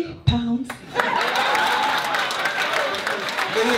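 An audience bursts into sustained applause after a short shout, clapping densely and steadily with some laughter and voices mixed in.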